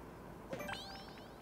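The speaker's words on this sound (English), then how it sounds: "Bell." A bell dings once in the video game Paper Mario: The Thousand-Year Door, a bright metallic chime with a short shimmering tail over faint background noise.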